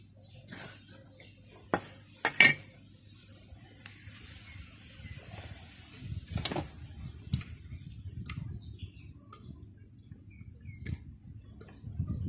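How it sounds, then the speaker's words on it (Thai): A knife chops curry paste ingredients for a blender while making Thai field-crab noodle curry. It gives sparse, irregular knocks and clinks on a board over a steady, quiet background hiss. "มาหั่นเครื่องใส่โถปั่น ก็เตรียมมีดเตรียมอุปกรณ์"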